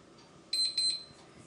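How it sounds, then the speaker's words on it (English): An electronic kitchen timer beeps in a quick cluster of high-pitched tones, a brief rapid pattern heard from a short distance in a quiet room. "that's the beeper going off, so it's telling me that 4 minutes is up"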